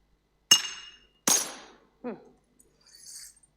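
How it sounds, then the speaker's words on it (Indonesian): A glass bottle struck and shattering on a church stage during an Indonesian worship gathering: two sharp breaking crashes followed by a lighter clink and faint tinkling debris, heard alone without talk. "Saat saya pukul botol kaca ini, apa yang terjadi? Pecah."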